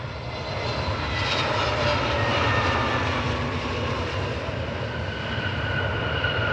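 Frontier Airlines Airbus A321neo jet arriving at Cleveland Hopkins International Airport, a steady loud engine roar with broadband jet rumble swelling slightly mid-pass and holding throughout, no voices.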